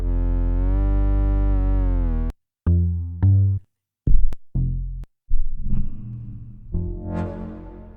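An FM patch on the KV331 Audio SynthMaster 3 synthesizer plays a sustained, buzzy tone that slides slightly, then a series of short, clipped metallic notes with sharp attacks and bell-like, bright timbres.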